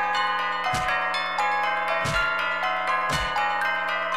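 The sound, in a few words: dinner bell ringing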